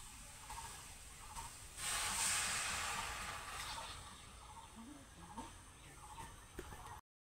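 Water goes into a hot pan of spiced potato and jackfruit, giving a soft, steady hiss of steam that swells briefly and then settles into a quiet simmer, with a few faint clinks near the end.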